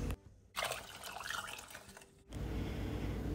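Boiling water pours from a vessel into a pot of chana dal: a splashing, gurgling burst of liquid for about two seconds, then a steady low rush and bubbling hiss, close and with no talk.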